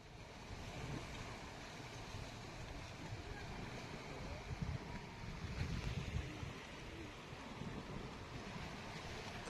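Sea waves wash against the rocky shore at Malvan's Rock Garden, a soft continuous surf with steady wind rumble and microphone buffeting, distant and faint, with no talk.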